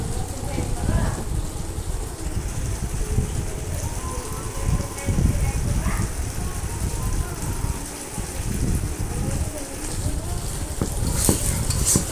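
Boiled potatoes are stirred and fried with spices and softened tomato in a pan, with steady sizzling and repeated scraping strokes, close and loud, while a person talks over it.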